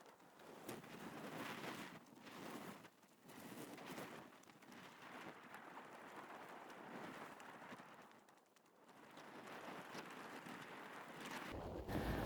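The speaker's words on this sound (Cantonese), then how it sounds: "一路係要與風搏鬥而行" Strong wind buffets the microphone on a mountain hiking trail near Ma On Shan in Hong Kong, a continuous loud roaring rush with gusts that swell and dip and no talk over it.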